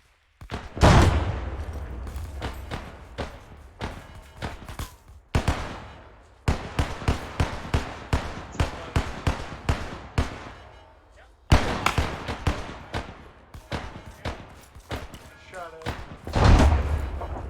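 Grenades and gunfire in a military shooter video game: repeated sharp, loud blasts and thumps in bursts, some rapid like a fusillade, with heavy booms near the start and end, and voices talking in between.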